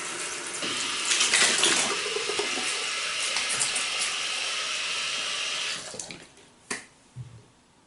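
Running water and splashing as a face is wetted during a traditional wet shave with Taylor of Old Bond Street sandalwood cream, a steady close rush that fades into a few drips and small splashes.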